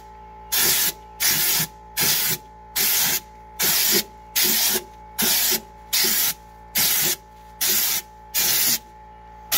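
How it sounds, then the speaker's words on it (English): Repeated bursts of Raptor liner being sprayed onto a truck bed, hissing on and off in a steady rhythm, about a dozen short blasts with brief pauses between, close and loud over a low steady hum. "we're ready to start spraying"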